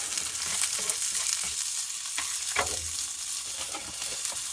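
Green onions fry on a camp stove with a steady, dense sizzle that fills the whole stretch, loud and close, with a few faint utensil clicks over it.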